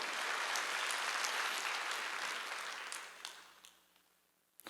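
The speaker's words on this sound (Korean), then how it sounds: "박수 치라 이게요" An audience at a Wednesday church worship service claps in dense, lively applause that holds steady, then thins out and fades to quiet near the end.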